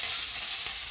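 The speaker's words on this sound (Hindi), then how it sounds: "ऑयल गर्म हो गया, इसमें प्याज डालेंगे" Onions fry in hot oil, giving a dense, steady hiss and crackle that stays close and loud throughout, with no talking.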